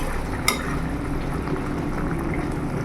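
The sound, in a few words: bata fish curry boiling in a pot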